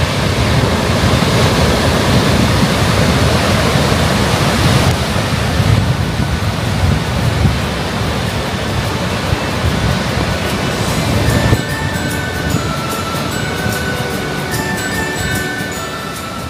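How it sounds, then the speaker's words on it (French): Loud, continuous wind roars over surging ocean swell in Corsica, a dense rushing noise that barely eases over the whole stretch. "Le vent s'était véritablement bien levé et la houle, elle était pas mal."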